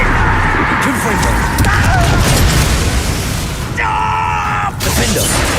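In a wizarding video game, the Confringo blasting spell goes off as a loud booming burst with a rumbling low roar, followed by a brief bright magical chime, all dense and close.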